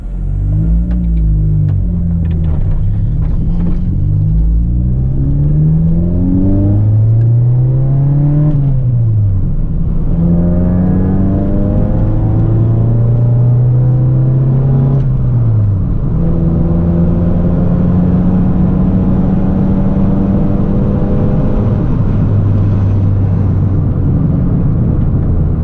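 A Honda Civic EG hatchback engine drones loud and close from inside the car in third gear near 2,000 rpm, its pitch rising and settling through long pulls over steady road rumble, with no voices.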